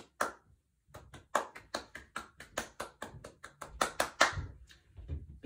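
Hand clapping used as body percussion, a series of crisp, close claps and taps in a steady rhythmic pattern with short gaps, played alone.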